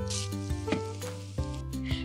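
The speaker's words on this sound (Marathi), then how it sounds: "सुका मेवा इथे छानपैकी परतून झाला की आता यामध्ये हे किसलेलं गाजर पूर्ण घालून घ्यायचं" Grated carrot and dry fruits fry in hot ghee in a kadhai, giving a steady close sizzle with occasional stirring, set against a tonal background.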